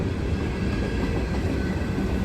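A freight train rumbles past close by, a steady heavy roar of wheels on rails with faint clattering throughout and no voices.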